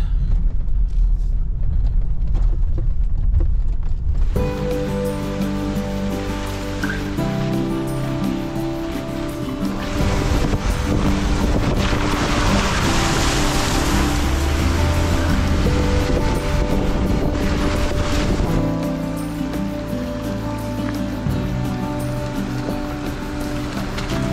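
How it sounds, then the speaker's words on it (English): A vehicle drives through a small stream water crossing on a trail in the Ozark National Forest, a loud continuous rush of splashing water with an engine hum and rattling underneath throughout, and no talking. "as I went through that last little water crossing, which was a gorgeous little stream"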